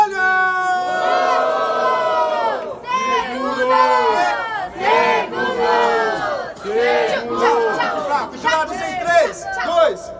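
A crowd at a Brazilian rap battle roars and shouts continuously, a dense mass of many voices cheering and yelling throughout, loud and close.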